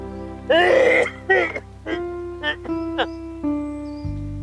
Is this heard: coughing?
yes